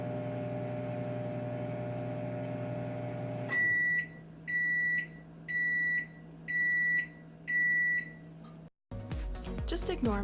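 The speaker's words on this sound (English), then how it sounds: "I'm just going to heat that in the microwave for a minute" A microwave oven heating milk hums steadily and loudly for several seconds, then stops and gives five evenly spaced high beeps, followed by the thunk of the door opening.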